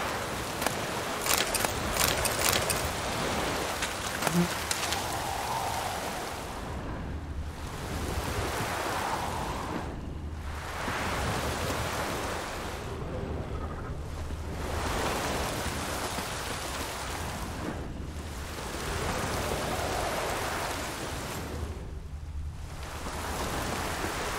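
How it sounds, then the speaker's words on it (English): Steady rain falling in The Witcher 3 video game, a continuous hiss of drops with wind and surf-like washes swelling and easing in slow waves, moderately loud and alone with no talk. "Looks like rain."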